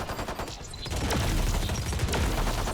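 Gunfire in the Valorant video game during a college esports match, a dense fusillade of rapid shots that builds partway through and keeps rattling loudly to the end.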